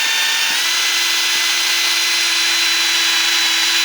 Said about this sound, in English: gonna continue to drill those out